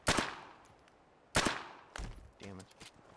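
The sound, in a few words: gunfire in the video game Fallout 4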